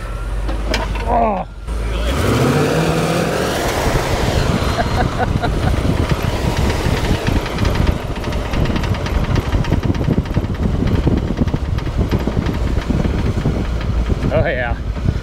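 Chassis engine from a motorhome, being used as a donor for a 1955 Chevy COE build, running loud and steady under load during a test drive, with a continuous close rumble and a brief voice near the start and end.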